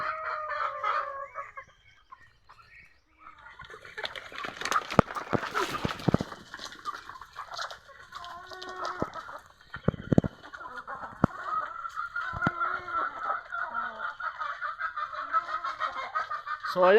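Chickens cluck and squawk in a busy farm coop, with duck honks mixed in and scattered knocks and thumps nearby.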